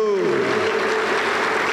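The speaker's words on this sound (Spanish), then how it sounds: "Aplauso para el Señor Jesús" Congregation clapping in a Pentecostal church service, a steady broadband patter of applause filling the room, with voices mixed in and a few sung or called-out tones fading at the start.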